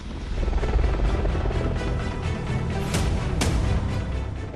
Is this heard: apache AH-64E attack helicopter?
yes